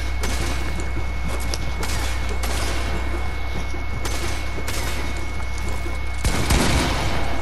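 Rapid gunfire from the video game Fortnite, loud and continuous, with dense bursts of shots and thuds running through the whole stretch and no talk over it.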